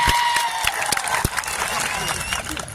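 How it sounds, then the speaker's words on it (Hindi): A large outdoor crowd claps at a political rally for World Tribal Day in Dungarpur, India. The applause is loud and steady throughout, with sharper individual claps standing out near the start. "एक बार जोरदार आपके लिए तालियां बजा दी जाए।"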